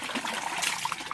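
Clear wastewater from mineral water refilling stations trickling steadily, with small bright droplet plinks over a continuous close watery babble and no voices.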